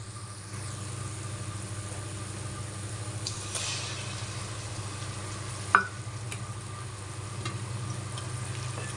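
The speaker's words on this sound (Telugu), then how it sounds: "ఇది కూడా ఒక 3 మినిట్స్ వేగనివ్వాలి" Onion paste frying in a pan gives a steady, close sizzle with a soft crackle throughout, over a low constant hum, with one brief clink partway through.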